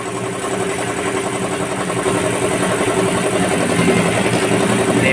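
A Suzuki S-Presso car idles at a Shell station in Kawit, Cavite, during preventive maintenance, its small engine humming in a steady, close, even drone with no talk.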